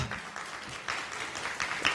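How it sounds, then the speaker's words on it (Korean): Audience applause at a press conference for the Korean drama 'Saimdang, Light's Diary', a short burst of clapping from a seated crowd, moderately loud and steady with a few sharper claps toward the end. "네, 박수까지 쳐주셨고요."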